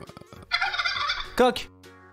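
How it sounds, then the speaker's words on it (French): A turkey gobbling, a loud rapid rattling burst followed by a second sharper gobble, close and clear with no talk over it. "Dindon."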